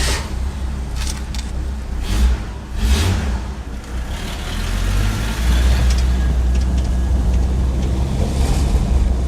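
A Ford Durango rolls slowly over loose gravel, low engine rumble building into a steady drone with crunching and a few rattling knocks, heard close from the vehicle.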